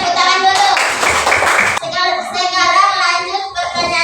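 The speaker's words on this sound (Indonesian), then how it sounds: "Kasih tepuk tangan dulu" Classroom clapping from a group of students during a school lesson, a burst of rapid hand claps mixed with children's voices and chatter, loud and close, fading into continued speech.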